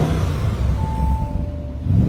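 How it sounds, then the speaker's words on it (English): An Audi RS with a 4.0-liter twin-turbo V8 revs while parked, giving a steady, deep engine rumble with a faint whine over it. It is close and continuous, with no voices. "Let's give it a little rev."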